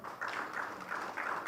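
An audience at a book launch claps in short bursts, the groups of claps coming in a fairly regular rhythm, moderately loud and close, with no voices over them.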